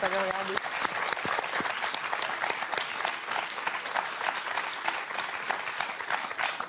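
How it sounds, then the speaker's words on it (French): A TV studio audience breaks into dense, sustained applause with a few sharp individual claps standing out, steady and fairly loud throughout after a brief voice at the start. "On va applaudir."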